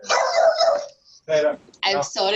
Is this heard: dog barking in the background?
yes